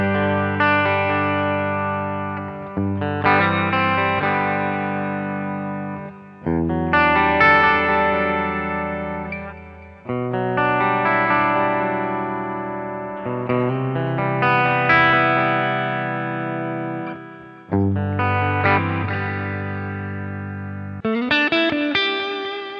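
Electric guitar through a BOSS GT-1 clean patch with delay and reverb, playing a run of sustained chords, each ringing out into echoing tails, loud and alone with no talk.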